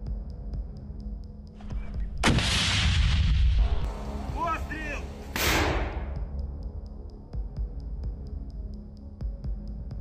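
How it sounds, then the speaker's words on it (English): A BMP armored vehicle burns and then explodes violently in a combat zone: a sudden loud blast bursts in, followed by crackling fire and a second strong burst, then a low rumble fading away. "we can only see how the BMP burns and then explodes violently"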